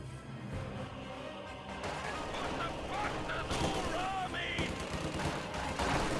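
MG42 machine gun fire in a World War II strategy video game, bursts of gunfire crackling amid a dense battle mix of other shots and effects, steady and loud throughout.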